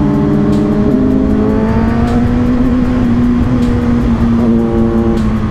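A Kawasaki Z900 superbike engine revs up and holds a steady, loud idle drone near the listener, with short throttle blips rising over the rumble and no talking.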